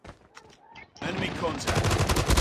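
Rapid gunfire in Call of Duty: Mobile during a Search and Destroy multiplayer match on the Crash map, with a few faint shots giving way to a loud, dense burst of automatic fire alongside game voice callouts.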